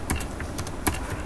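Computer keyboard keys tapped in short, uneven bursts of clicks, close and fairly quiet, with no voices.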